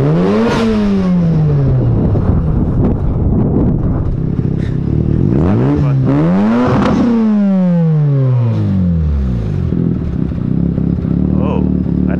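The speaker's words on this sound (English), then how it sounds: "Got some requests to rev it." Mazda RX7 FD rotary engine revved repeatedly while parked, loud close rising and falling blips climbing sharply then dropping back to a rough idle.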